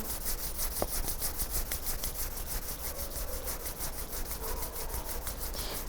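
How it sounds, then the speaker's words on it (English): Two palms rub together in a steady, soft rhythmic swish, close and quiet, repeating evenly for several seconds with no talk. "Join your palms together and rub your palms together."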